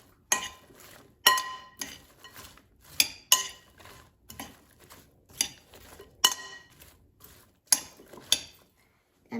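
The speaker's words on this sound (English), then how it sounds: "now I'm going to mix it until mushrooms and onions are both coated evenly with" A utensil clinks and scrapes against a bowl as mushrooms and onions are tossed with oil and seasonings. Roughly a dozen sharp, close clinks land in an uneven rhythm, with softer scraping in between and no talking.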